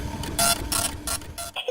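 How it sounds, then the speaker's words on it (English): Storybook printer spitting out sheets of paper: several mechanical chattering, whirring bursts in quick succession, loud and close, alone without any talk. "The printer spits out sheets of paper everywhere."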